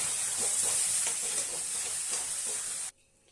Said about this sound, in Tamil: இதையும் சேர்த்து நல்லா இப்படி கைவிடாமல் கிளறி விடலாம்